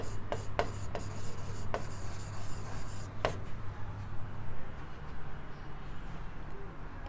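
A pen scratches across paper in close, soft strokes, with a few sharp taps early on and quieter continuous writing afterwards, no talking.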